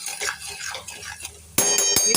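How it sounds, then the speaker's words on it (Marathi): Turmeric and salt being sautéed and stirred in a pan, with soft scraping and clinks at first, then a sudden loud bright metallic clatter and ringing that continue to the end. "मी परतून घेते आहे"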